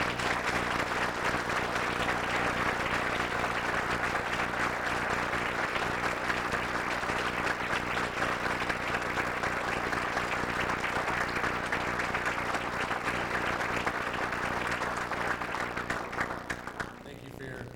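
A council meeting audience applauds steadily for the whole stretch, dense and even clapping that only thins out near the end.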